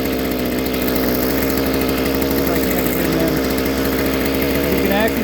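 A Harbor Freight Predator auger engine, just back running after a fuel line repair, idles close and loud with a steady, rapid mechanical throb and a constant vibrating hum.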